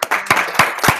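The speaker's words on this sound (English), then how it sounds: "Round of applause for me." A few people clap briefly at a web development tech event, with four distinct clap bursts in about a second.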